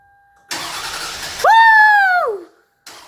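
A Toyota Camry's starter turns the engine over for about a second, then the engine catches and runs with a rising whine before cutting off. The sound is close and loud, with no talk.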